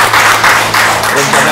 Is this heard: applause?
yes